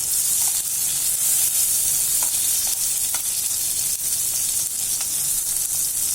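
Garlic cloves frying in a pan for a spicy garlic chutney give a loud, continuous hiss and sizzle that stays steady throughout, with only faint stirring taps and no voices.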